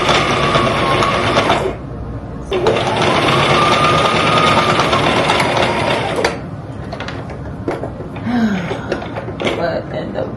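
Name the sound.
sewing machine stitching an abaya garment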